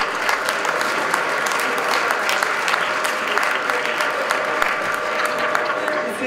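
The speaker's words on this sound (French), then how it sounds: "Bravo, vous pouvez les applaudir tous les deux." Dense, sustained applause from a festival crowd cheering the winning team of a quiz game, a steady wash of many hands clapping at an even loudness throughout.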